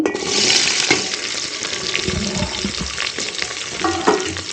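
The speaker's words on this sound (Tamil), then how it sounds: "இந்த வெங்காயம் வந்து கொஞ்சம் ப்ரௌனாக வணக்கணும்" Onions frying in a pan for duck curry, a close, loud, continuous sizzle broken by scraping stirring strokes and occasional clinks, with no talking.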